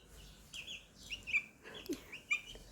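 A white rooster clucks softly while pecking at feed among chicks, several short faint clucks and chirps scattered over a quiet background.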